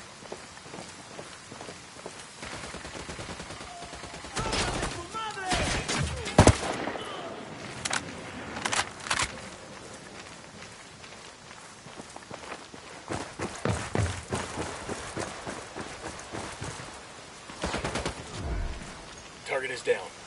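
Gunfire in a Ghost Recon Wildlands firefight, with sharp shots and short bursts scattered among shuffling footsteps and movement, some cracks loud and close, others further off.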